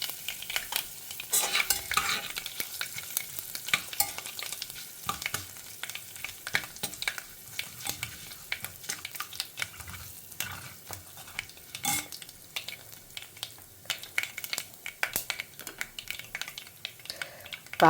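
Mustard seeds, asafoetida and curry leaves crackle and sizzle in hot oil for a Tamil turnip kuzhambu, with dense close spattering pops and occasional stirring clinks throughout and no talking.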